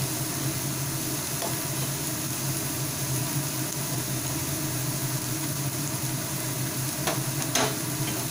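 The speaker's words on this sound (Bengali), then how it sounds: "আরও কিছুক্ষণ ভেজে নেব।" Grated bottle gourd fries in a pan for Bengali payesh, giving a steady, close sizzle that runs evenly throughout with a couple of faint clicks near the end.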